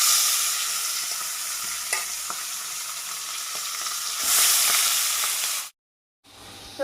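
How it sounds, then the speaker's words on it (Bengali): Rice for muri ghonto sautés with spices in a hot pan, giving a continuous loud sizzle and frying hiss with stirring scrapes, briefly cutting to silence before resuming more quietly. "এই যে মুড়ি ঘন্টের চাল মশলা দিয়ে কষিয়ে নিচ্ছি ভালো করে।"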